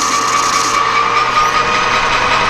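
A power drill bores a hole in a piece of plastic in a machine shop while a boom mic mount is being repaired, giving a steady close high-pitched whine that runs continuously throughout.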